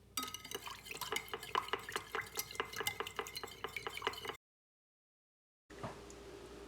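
Batter of eggs and vanilla extract for French toast being mixed in a bowl, with rapid repeated clinks and taps of the utensil against the bowl and a wet sloshing texture, fairly close, followed by a pause and then quieter handling.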